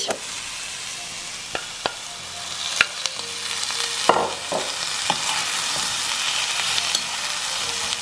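Drained pasta tipped into a pan of frying courgettes, a strong close sizzle with clinks and scrapes of stirring scattered throughout, a louder hiss swelling midway; no one speaks.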